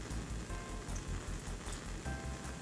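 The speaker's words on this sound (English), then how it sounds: "Gently rinse your slide again" Water gently rinsing a microscope slide during an endospore stain, a steady close splashing patter running continuously with no voices.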